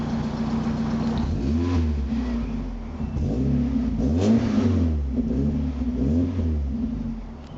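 A Mazda MX5 engine revs up and settles several times in quick succession, a close raspy mid-pitched roar rising and falling over a steady idle, with no one speaking.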